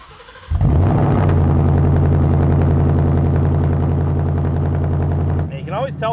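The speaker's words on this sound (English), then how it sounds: "You have that crackling, popping, aggressive sound, something we're definitely used to with the muffler delete." A car engine with a muffler-delete axle-back exhaust fires up and settles into a loud, close, deep idle with a steady throbbing burble, before a voice briefly speaks over it near the end.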